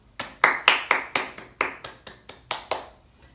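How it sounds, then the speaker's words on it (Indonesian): About a dozen separate hand claps in a steady, slightly uneven rhythm, close and crisp, from a small class applauding group 2 and group 4 after their presentation at a micro teaching session; no voices over the claps. "Beri tepuk tangan dong untuk kelompok 2 dan juga 4."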